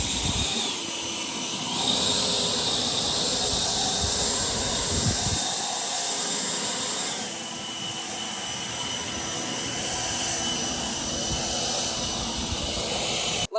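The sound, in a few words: Harbor Freight Atlas 80V leaf blower running on turbo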